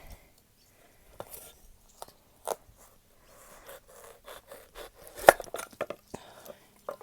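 A knife cuts into a tough, giant zucchini saved for seed, giving sparse close crunches and scrapes with quiet gaps, including one sharp loud crack partway through.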